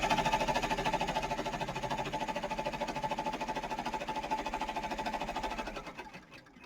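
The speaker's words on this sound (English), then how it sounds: "So it's just going to sew out our placement line." A Brother PR1055X embroidery machine stitches a placement line for an in-the-hoop Halloween coaster, a steady fast mechanical needle rattle, close and continuous, slowing and stopping at the end.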